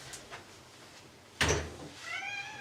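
A cat wanting to be let in gives a short, rising meow at the end, right after a dull knock or door-like thud indoors. Both sounds are fairly faint, and no one talks over them.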